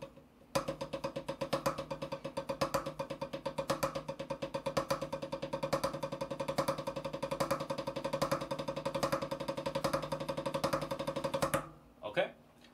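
Drum kit playing a phrase of triplet single strokes: rapid, even, steady hits repeating for about eleven seconds, fairly quiet and close, stopping abruptly near the end.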